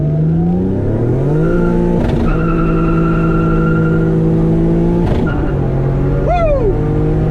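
A turbocharged car with an intercooler and modified exhaust revs and accelerates hard through several gear changes, the engine note loud and close throughout, climbing and dropping between shifts, with a brief squeal near the end.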